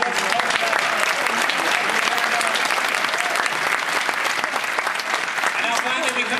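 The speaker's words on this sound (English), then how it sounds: "Big round of applause for lovely ones." A live panel-show audience claps in steady, dense applause throughout, loud and close, with no talk over it.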